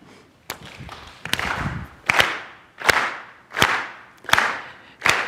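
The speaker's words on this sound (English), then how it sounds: "So we're going to start by clapping." Congregation at a Sunday service claps in a steady, even beat, starting with a few scattered claps before settling into loud, regular claps about every three-quarters of a second.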